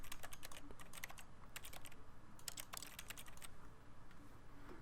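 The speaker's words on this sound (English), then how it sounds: "You can sit here whacking away on my keyboard." Typing on a computer keyboard in the video game The Stanley Parable, old mod version: rapid, clustered clicks close up, coming in bursts with short pauses, fairly quiet and with no talk.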